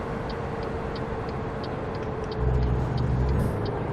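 Truck engine in American Truck Simulator, played with an Xbox 360 controller, rising in a low surge of revs after an unintended downshift, over a steady drone with faint ticking clicks throughout, no voices.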